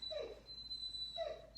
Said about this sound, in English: Sorry, I have my dog.